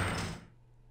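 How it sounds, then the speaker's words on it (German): A door opens in the horror video game Angels of Death, a brief heavy sliding whoosh that fades quickly into low ambient hum. "Oh, die Tür ist offen."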